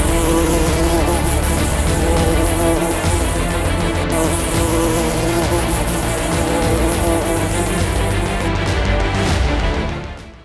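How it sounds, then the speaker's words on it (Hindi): A swarm of bees attacking a meditation retreat during a havan fire ritual in Chhatarpur, Madhya Pradesh, gives a dense, steady, loud buzzing drone throughout, fading out at the very end. "मधुमक्खियों ने धावा बोला और मौन साधना केंद्र में अफरा तफरी मच गई।"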